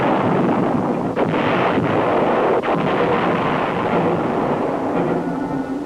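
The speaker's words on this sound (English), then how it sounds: "During the operation, massive artillery was employed." Massive artillery barrage hitting enemy positions, a continuous loud rumbling roar of distant blasts blending together, with a few sharper thuds rising out of the steady din.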